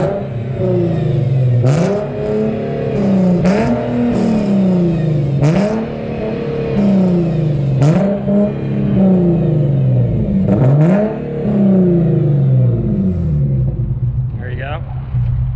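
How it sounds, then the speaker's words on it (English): A car engine fitted with a Tomei exhaust and Motordyne Art Pipes revs loudly and repeatedly, about seven sharp blips rising and falling close by, with a brief voice near the end. "let's go ahead and get a little rev here."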